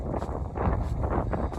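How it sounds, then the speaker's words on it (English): Wind gusts buffet the microphone out on a windy cattle pasture, a brief low rumbling rush that rises and falls. "she's windy out here"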